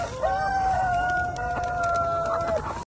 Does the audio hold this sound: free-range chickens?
yes